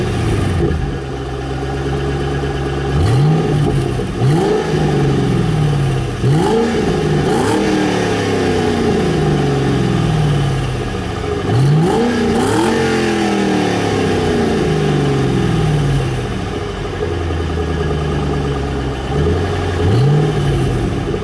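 A 2006 Ford Mustang GT convertible's 4.6 liter single overhead cam V8 rumbles at idle and is revved repeatedly, each loud rise in pitch falling back to a steady burble, close and alone.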